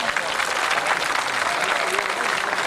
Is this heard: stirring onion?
no